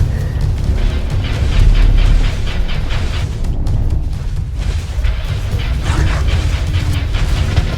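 An old vehicle engine cranks and rumbles into life while fleeing a dinosaur, a heavy mechanical churning with low booming and rattling that stays loud and continuous throughout.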